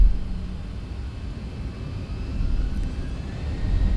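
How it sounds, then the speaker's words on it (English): Engines of a Boeing 737-800 (Zibo mod) in the X-Plane 11 flight simulator spooling up to takeoff thrust, a steady low roar and rumble that swells toward the end, no voices. "takeoff power set, toga."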